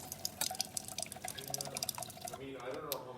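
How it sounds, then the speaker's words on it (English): Hot water dispensing from a DeLonghi espresso machine during a tune-up, a close, steady splashing and dripping trickle with a hiss that thins out toward the end. "There's hot water coming out there."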